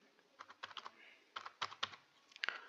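Keys tapped on a computer keyboard while filling in an online form, in several quiet bursts of quick clicks separated by short pauses, close and alone.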